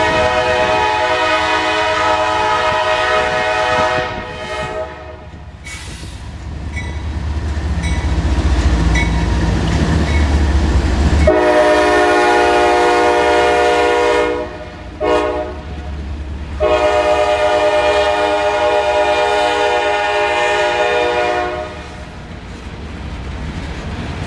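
A train rolls past a level crossing with warning signals going, its horn blaring loud and close in long sustained blasts over the rumble of passing cars, with brief pauses between the blasts.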